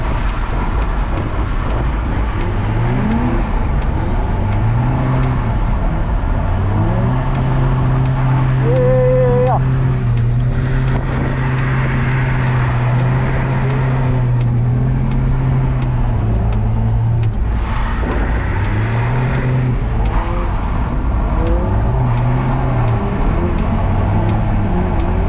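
A car laps a race track with an MX-5 close behind, its engine rising and falling in pitch through repeated gear changes and corners, with someone talking over it throughout.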